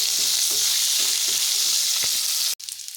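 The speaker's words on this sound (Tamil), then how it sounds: "நான் நாலு பச்சை மிளகாவை எடுத்து ஸ்ப்ளிட் பண்ணி போட்டிருக்கேன் கீரி நடுவில் கீரி இதை வதங்கட்டும்" Four split green chillies sizzle and fry steadily in hot oil in a pan for a Kumbakonam kadappa, a continuous close, loud crackle that cuts off abruptly near the end, leaving a quieter hiss.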